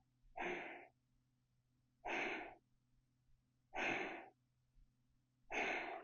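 Four slow, audible exhales during a calm mindfulness breathing exercise, each a soft, breathy whoosh lasting about half a second, evenly spaced with quiet pauses between, close and steady over a faint low hum.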